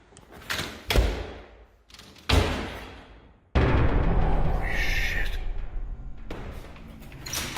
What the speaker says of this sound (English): 3 loud, forceful bangs, the spring-loaded hatch retracting hard against the ceiling.